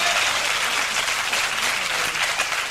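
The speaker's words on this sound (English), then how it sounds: "Go and applaud him," Studio audience applause for comedian Ricky Gervais on a British late-night comedy show, a dense, steady wash of clapping filling the whole stretch without a break and with no talking.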